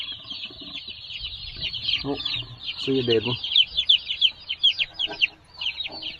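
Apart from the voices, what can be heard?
Cornish cross meat chickens clucking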